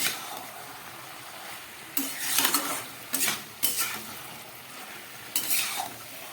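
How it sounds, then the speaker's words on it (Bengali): Malabar spinach, other vegetables and fish head are stirred in a pan, with several short bursts of scraping and clinking from the spoon against the pan over a quiet background, each lasting under a second, and no talking. "সমস্ত সবজিগুলোকে খুব ভালো করে এবার আমি মিশিয়ে নেব।"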